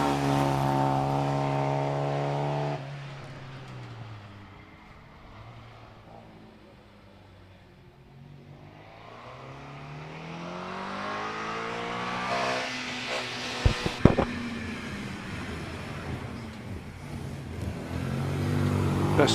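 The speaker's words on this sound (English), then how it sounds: "one of the MGB GTs, the hard-topped version of the MGB, running a slightly bored out 1950cc motor" A 1950cc MGB GT hardtop race car launches at a hill climb, its engine rising through revs and then fading into the distance before other engine noise swells again, with commentary over it.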